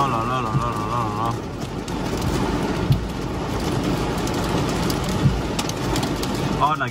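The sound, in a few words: hail falling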